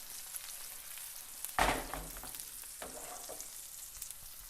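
Chili peppers and Italian sausage frying in a pan, a sudden loud sizzle bursting up as food hits the hot oil, then settling into a steady crackling fry with a few stirring scrapes.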